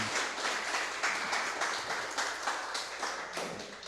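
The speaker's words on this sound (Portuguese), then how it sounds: "Vamos aplaudir o Senhor Jesus por esta vida." A church congregation claps together in sustained, fairly even applause, a dense wash of many hands with rhythmic swells, steady and moderately loud throughout with no talking over it.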